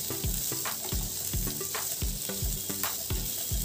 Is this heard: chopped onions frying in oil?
yes